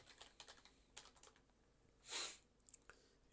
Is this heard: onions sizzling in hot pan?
no